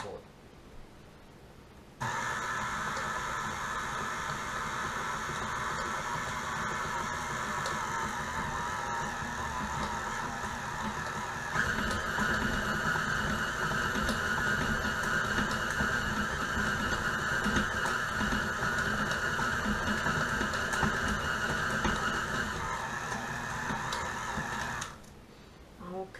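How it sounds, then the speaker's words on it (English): A stand mixer churns snickerdoodle dough, a steady motor whir with a mechanical hum that starts abruptly, drones evenly for over twenty seconds, grows slightly louder midway, then cuts off. "Lock the mixer down, lever on the right."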